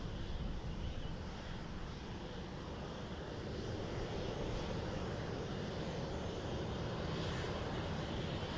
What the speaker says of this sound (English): So AA 132 is our 777 next, coming in from DFW.